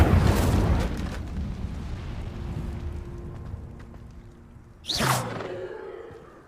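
An Incendio fire spell in Hogwarts Legacy opens with a loud fiery burst that fades into a crackling rumble, followed near the end by a second sharp whooshing flare.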